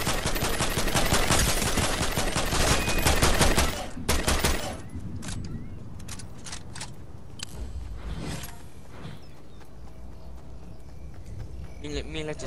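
Fortnite gameplay gunfire, a loud rapid burst of automatic shots for about four seconds, then scattered single shots and clatter at lower level, with a player talking over the action.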